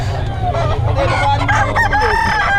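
A rooster crows loudly and close by, a long drawn-out call with clucking from other fowl around it.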